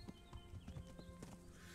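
Horse hooves clip-clop in the medieval video game Kingdom Come Deliverance, a quick run of soft, close hoofbeats at low level alongside faint game ambience.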